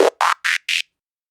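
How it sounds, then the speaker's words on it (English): A reversed Transformers-style robotic transformation effect made on an MPC: four quick synthetic bursts, each a little higher in pitch, followed by sudden silence. "make the reverse transformation sound"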